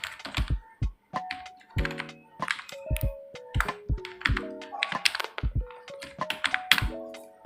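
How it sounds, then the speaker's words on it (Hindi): Rapid, irregular keystrokes on a computer keyboard fill the space, close and clear, with short pauses between bursts and no talking. "यहाँ पर टाइप करता हूँ"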